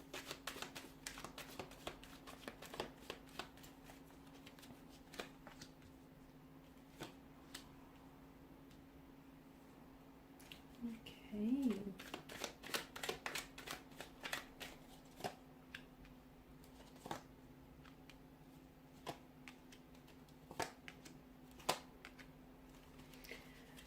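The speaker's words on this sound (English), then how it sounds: "So we'll give the cards a shuffle and see what messages are coming in." Soft, quiet shuffling of tarot cards with rapid papery flicks and riffles, intermittent bursts over a faint steady hum.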